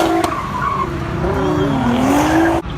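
Tires squeal in long rising and falling tones over a loud engine roar, a car skidding near the edge of a spin, cut off abruptly at the end.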